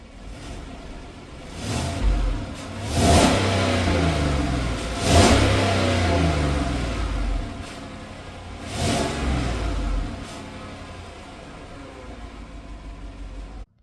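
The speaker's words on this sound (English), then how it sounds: "I'll set up the camera and give it a couple revs." A 2014 Chevrolet Silverado V8 truck with stock exhaust revs repeatedly from idle, with four or five swelling blips rising and falling in pitch. The exhaust note sounds fairly muted and steady, close by, with no talking.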